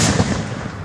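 Fireworks bursting outdoors in a dense, continuous crackle of rapid pops and booms, loud and close, with no voices over it.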